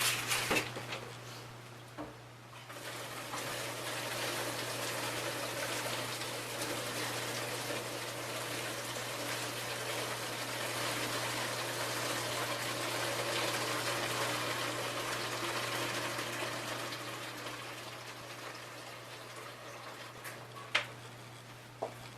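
Warm water pours and trickles steadily over a seed tray for a long stretch, a soft continuous gushing splash over a low electrical hum, with no one speaking.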